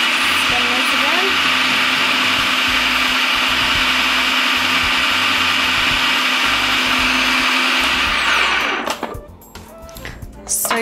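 A blender spins restaurant-style salsa in a steady, loud, continuous whir for about eight seconds before cutting off. A faint voice is heard after it stops.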